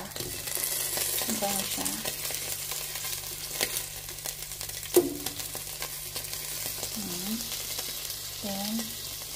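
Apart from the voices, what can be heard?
onions and liver sizzling while stir-frying in pan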